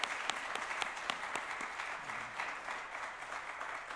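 Congregation at a church revival meeting bursts into steady, dense applause of thanks that fills the hall evenly for several seconds.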